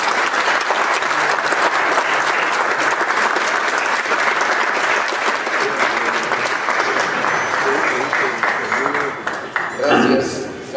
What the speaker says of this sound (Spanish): Él es Luis de Guadalupe, para quien pido un fuerte y caluroso aplauso